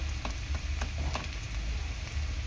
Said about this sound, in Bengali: পেঁয়াজটাকে একদম হালকা করে ভাজবো, খুব বেশি ভাজবো না।